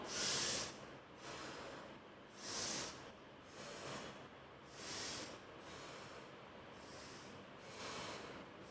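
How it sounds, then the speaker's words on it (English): Slow, deep yoga breathing, with long audible inhales and exhales repeating in a regular rhythm, about one breath every second or so, close and fairly quiet. "breathe in, breathe out, deep and long"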